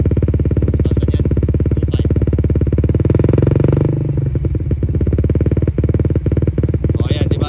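A motorcycle fitted with a power pipe exhaust idles and is held at steady revs, producing a loud, continuous close-up engine drone with a slight rise midway while someone talks over it.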